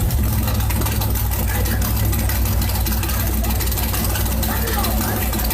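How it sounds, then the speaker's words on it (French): A Citroën CX GTI engine, restarted after ten years abandoned, idles with a steady loud mid-pitched rumble that continues unbroken throughout. "une démonstration de la satisfaction qui m'envahit après ce beau redémarrage moteur"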